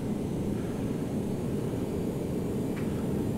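An Airbus A319 in the Toliss flight simulator roars with thrust reversers on landing, a loud, steady broadband rumble that holds evenly throughout with no voices.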